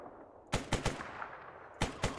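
Bursts of gunfire in the video game S.T.A.L.K.E.R. Anomaly: a quick cluster of three or four sharp shots, a pause, then two more, fairly close and loud with no talking.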